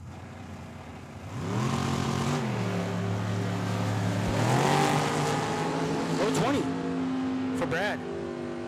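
A traditional Ford Mustang and a dragster launch down the drag strip, engines rising in a loud, climbing whine that holds, then pitches up again near the end, with an announcer talking over it.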